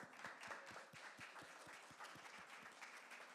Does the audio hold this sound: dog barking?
no